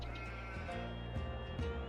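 Sheep bleating in a farming video game set in a western wilderness survival series: a couple of quiet, wavering bleats sit under steady ambient background tones.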